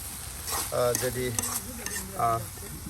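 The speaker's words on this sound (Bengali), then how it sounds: "একদম ভাজা ভাজা করে নেওয়া হচ্ছে" Egg and potato are stirred and fried in a pan for a rural Bengali dish, with close, steady sizzling and repeated scraping stir strokes.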